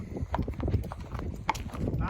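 Close, loud hoof clip-clop from a barefoot AQHA quarter horse gelding being ridden, a quick irregular patter of hoofbeats through the whole moment.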